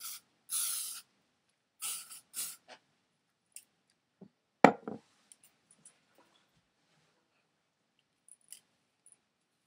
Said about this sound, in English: So you just spray it through.